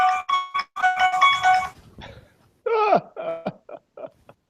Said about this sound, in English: That's a heck of a ringtone.